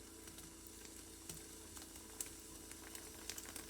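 A thick, fluffy pancake fries in a pan with a faint, steady sizzle and a few soft crackles, heard quietly on its own.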